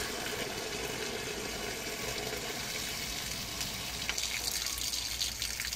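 Used coolant water draining out of a Hyundai Accent Era cooling system, a continuous splashing, gushing flow heard close and alone at an even level.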